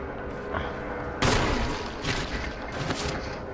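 A gunshot fired in the Resident Evil video game hits loud and sudden over a constant game background hum, and two fainter shots or impacts follow in an irregular rhythm.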